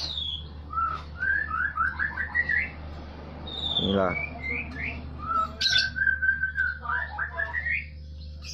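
A pair of wild white-rumped shamas (murai batu) trade clear whistled calls and squawks nearby, bursts of song spread across the clip, with one brief spoken word.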